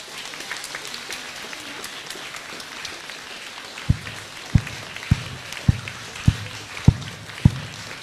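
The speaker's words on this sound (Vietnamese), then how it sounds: "ngồi yên như thế, vỗ tay theo nhịp" Audience at a Buddhist talk clapping along in steady rhythm, a series of sharp, evenly spaced claps over a low murmuring room background.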